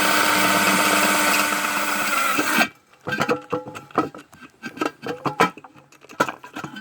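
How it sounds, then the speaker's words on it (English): A power drill whirs steadily for a few seconds drilling holes in a homemade portable metal wood grill, then stops, followed by a series of scraping, clattering knocks and rubs of metal being handled. "I am essentially just drilling holes all along here."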